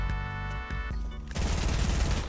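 Gunfire in the video game Fortnite, a dense burst of rapid shots starting partway through and continuing loudly to the end, preceded by steady tonal game sound.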